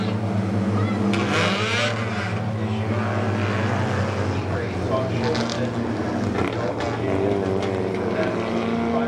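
Race cars circle the Midvale Speedway track at reduced pace before the green flag, a steady multi-engine drone with passing surges, heard under commentary.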